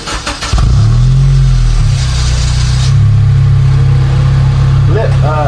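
A car engine fitted with a $400 aftermarket exhaust starts and revs up, then holds a loud, steady, deep drone close by, with a brief rise near the end.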